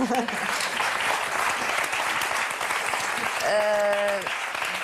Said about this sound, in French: Donc on peut applaudir.